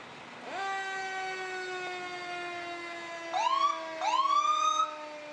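At a Fourth of July parade in Edina, an Edina Fire Department ambulance sounds its siren: a steady electronic wail that holds nearly level, then two quick rising yelps near the end, loud and fairly close, with no talking.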